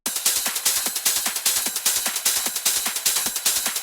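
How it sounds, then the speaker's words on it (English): Electronic drum loops with kicks and crisp hi-hats play on their own in a fast, steady pattern, loud and close, with bright ticking hats over regular punchy hits. "Now the rest of the parts are drum loops."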